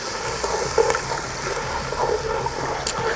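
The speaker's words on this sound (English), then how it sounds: "Give that a good stir." Coconut milk being stirred into a red fish curry of trevally in a pot, soft wet sloshing and gentle clinks of the spoon, steady and close with a low background hum.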